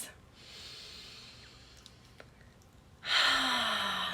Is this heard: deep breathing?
yes